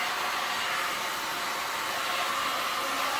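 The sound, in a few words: heat gun blowing over resin pour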